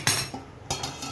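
A metal lid set onto a pot of fish roe curry, a couple of quick close clinks and clatters of metal on metal, brief and sharp.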